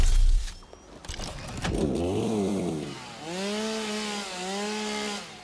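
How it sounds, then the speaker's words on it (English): A chainsaw in the video game Satisfactory whirs and revs with a buzzing, rising and falling engine tone across several seconds, loud and close, with no talk over it. "How about chainsaw?"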